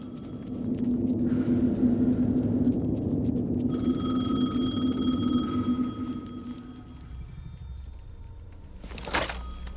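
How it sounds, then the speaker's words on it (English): A telephone in Alan Wake 2 rings with a bright, sustained metallic bell tone over a low rumbling hum, holding for a few seconds before a thunk near the end. "The phone again."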